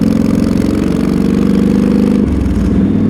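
A Yamaha XVS 1300 motorcycle with a Cobra FI2000R O2 EFI tuner revs with a throbbing, pulsing exhaust note, holding steady before the pitch shifts lower and settles, loud and close.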